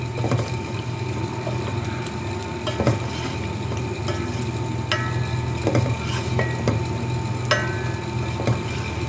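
Roasted ground cumin and garam masala are stirred into mutton pulao in a pot, giving soft scraping and occasional spoon taps over a steady sizzle and background hum, with no one talking.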